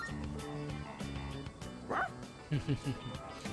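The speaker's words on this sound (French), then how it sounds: "Trop mignon le chien." A dog barks in Persona 3 Reload, a short bright yelp near the middle followed by a few quick barks, over steady game music and ambience.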